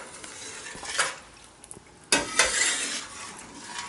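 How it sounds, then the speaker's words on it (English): A spoon stirs whipping cream and cheese in a pot over low heat for mac and cheese, giving soft scraping strokes with a louder clatter of utensil against the pot partway through, close by and without talk. "So we're going to cook this at a real low heat and just stir it until it all melts together"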